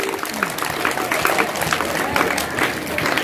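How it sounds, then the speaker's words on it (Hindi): An audience claps steadily at a school quiz competition, with continuous applause from a crowd filling the room and some voices mixed in. "ताली बजती रहना चाहिए, हौसला अफजाई होनी चाहिए।"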